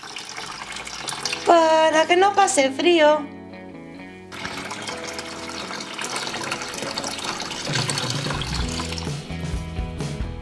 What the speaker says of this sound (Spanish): Le echamos agua calentita.